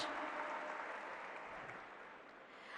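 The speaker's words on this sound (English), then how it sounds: "Please put your hands together." Broad, even applause from a large audience, heard quite faint and distant, a smooth wash of many clapping hands that gradually fades slightly toward the end.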